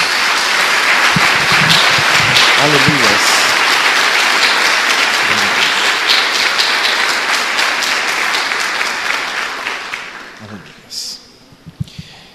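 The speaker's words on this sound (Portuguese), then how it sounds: "Dê uma salva de palmas a Jesus" A church congregation gives sustained applause to Jesus during a service, loud and dense for about ten seconds before thinning into scattered claps, with voices calling out over it.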